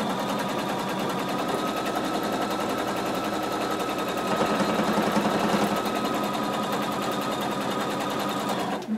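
A sewing machine runs steadily, stitching fabric about half an inch from the edge to keep it from stretching, its rapid needle rattle continuous and close for the whole stretch with a brief rise in intensity midway.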